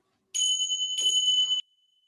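Two strikes of a meditation bell for bowing to the Buddha in a Buddhist practice, the second chiming soon after the first, both bright and sustained before stopping abruptly.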